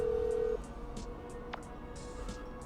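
Phone menu tones in the GTA 5 video game, a sustained steady beep that stops abruptly, followed by a series of short soft electronic blips and one sharper chirp over low background hum.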